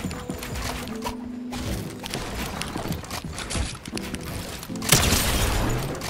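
Rapid video game gunfire crackles in short bursts against busy in-game ambience, with scattered impact sounds and a louder burst of shots near the end, all fairly close and punchy.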